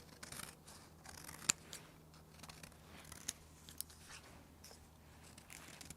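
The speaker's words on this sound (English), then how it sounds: "let's cut some more of this off" Scissors snipping trim on a floral frame makeover project, a few sharp close cuts standing out over quiet background, no voices.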